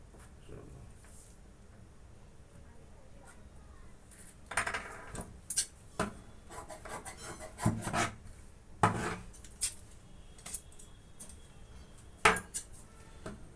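Scissors cut a 3-inch-wide fabric strip for the belt band at the hem of semi-Patiala pants, heard as close, irregular crisp snips and rasping bursts between quieter stretches.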